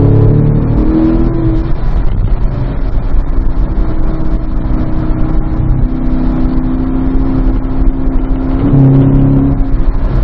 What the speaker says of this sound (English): just going to let you sit back and enjoy the sounds of the engine